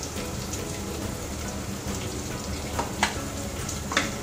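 Onion with cinnamon, star anise and green cardamom sautéing in a pressure cooker for soybean pulao, a steady close sizzle with a few sharp crackles and pops near the end.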